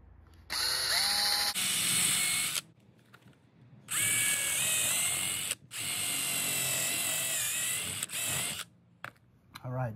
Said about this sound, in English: I'm gonna go ahead and drill some holes down in here